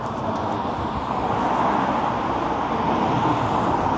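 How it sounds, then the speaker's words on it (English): Steady, dense road traffic roars continuously, a broad wash of engine and tyre noise from nearby vehicles with no pauses. "there does get a real lot of traffic on this and it's quite noisy"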